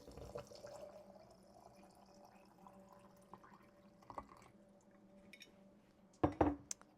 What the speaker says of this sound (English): then topping that off with water